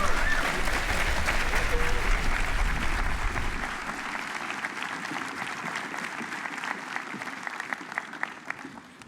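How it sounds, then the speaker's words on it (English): An audience at a university groundbreaking ceremony applauds the Tar Heel Voices a cappella group. Full, dense clapping at first thins into scattered claps as it fades. "Can we get another round of applause for the Tar Heel Voices?"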